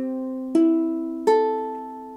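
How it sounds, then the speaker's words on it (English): Ukulele strings in standard C tuning plucked one at a time: a ringing note is joined by two more clear plucks, each left to sustain and slowly fade, close and bright with no talking. "A concert, tenor and soprano ukulele are usually tuned in the C tuning."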